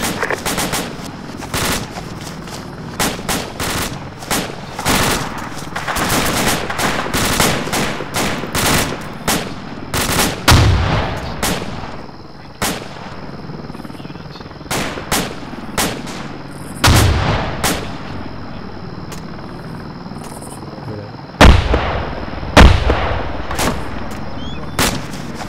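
Repeated rifle gunfire goes off outdoors over about twenty-five seconds: sharp cracks come singly and in quick clusters at irregular gaps, with a few heavier, booming reports standing out near the end.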